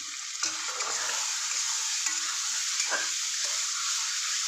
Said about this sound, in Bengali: টক দইটা দিয়ে ঠিক করে নাড়তে হবে।